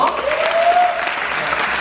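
Brief applause breaks out from the crowd at a Korean prize-draw show, a steady dense patter of clapping with a voice speaking over it early on.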